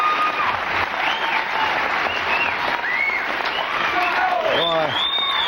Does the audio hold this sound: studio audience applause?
yes